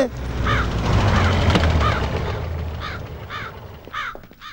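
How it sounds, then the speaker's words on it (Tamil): Several crows caw in repeated short harsh calls at a moderate distance, heard over a constant low rumble and background noise, with the calls growing more frequent toward the end. "மேல படுற காக்கா கீழ வருது"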